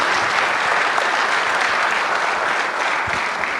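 Loud, dense applause from an audience at a team-building talk by Dr Chirisa, steady and unbroken throughout the few seconds.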